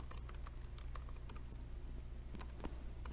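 Steady clicking of a computer keyboard as a MATLAB script is typed, quick irregular keystrokes close and fairly quiet over a low hum.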